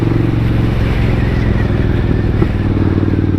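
A 1999 Suzuki Intruder 800 motorcycle engine idling close by, a loud low rumbling throb with a steady uneven beat and a small clatter near the end.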